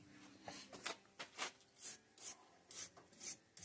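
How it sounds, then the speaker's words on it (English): Corrosion gunk scrubbed off a 2000 Ford Mustang battery terminal with a brush, about a dozen short rasping strokes in an uneven rhythm, close but faint. "Brush as much of that gunk off as you can."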